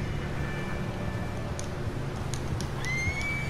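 A horse whinnies in the video game Red Dead Redemption 2, a single moderate neigh over steady wind and weather ambience, with a rising tonal call near the end.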